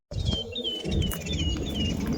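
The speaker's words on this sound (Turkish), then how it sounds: "Sesleri duyuyor musunuz? Kuş seslerini." Small birds chirp and warble in repeated short calls from a hilltop above Gemlik in the open countryside, heard over a steady low rumble of wind and nearby movement.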